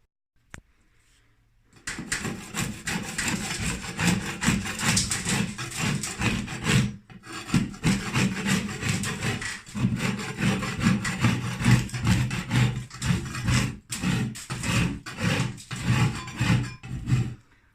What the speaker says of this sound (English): We're going to start by scraping it all back.